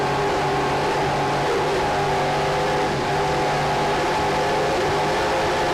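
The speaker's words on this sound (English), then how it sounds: "the exhaust going out the side of the boat, a lot quieter boat from this vantage point" A loud, steady engine roar from a powerful offshore racing boat in rough seas, exhaust exiting the side of the hull, droning continuously without letup, no speech.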